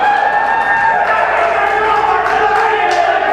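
A wrestling crowd at a UCW-Zero show cheers and roars steadily throughout, with a commentator talking over the noise.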